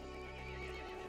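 A horse in the Resident Evil 8 video game lets out a brief, loud whinny, and clip-clopping hooves sound close by under it.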